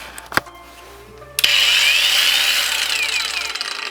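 REVOLT cordless angle grinder switched on at its second speed: a couple of clicks, then a soft start rising into a steady, loud, high whine that holds close by for several seconds without talking.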